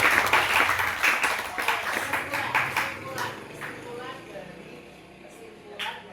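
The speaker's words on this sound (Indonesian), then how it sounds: "Oke, tepuk tangan untuk yang sudah menjawab." A short burst of scattered clapping from a small group of students in a school classroom fades out after a few seconds, followed by a single brief sound near the end.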